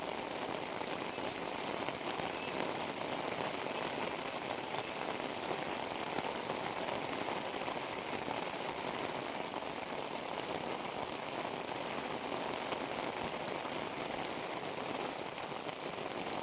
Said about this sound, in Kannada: ಆ ರೈನ್ ಸೌಂಡು ಎಷ್ಟೊಳ್ಳೆ ಫೀಲ್ ಕೊಡುತ್ತೆ ಅಲ್ವಾ